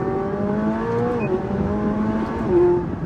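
McLaren 675LT engine revving hard with audible pitch shifts as it downshifts, a loud, close, continuous roar that drops and climbs again, with no talk over it.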